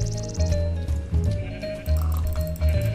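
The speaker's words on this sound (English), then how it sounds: "I'm going to kill some sheepy sheep." Sheep in the Minecraft Tekkit video game bleat several times in a row, short repeated game-sound cries close and clear, with no voices in between.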